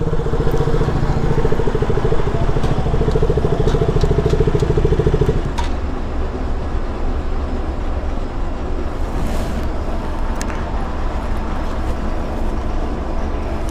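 A motorcycle engine idles at a toll booth on the Yamuna Expressway with a constant low rumble, a deeper drone dropping away partway through as the steady putter continues.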